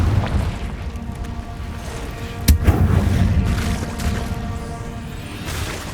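A Confringo fire spell from the Hogwarts Legacy video game bursts with one sharp, sudden crack midway, followed by a rumbling, crackling tail over a steady noisy cave ambience.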